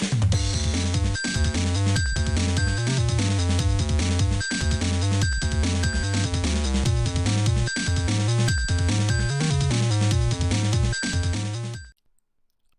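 Background music from a Yu-Gi-Oh! game on the Game Boy Advance: bouncy chiptune with a steady beat and bright repeating synth notes, playing alone and stopping abruptly near the end.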